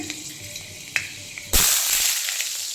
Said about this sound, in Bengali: কয়েক দানা মেথি ফোড়ন দিয়ে দিলাম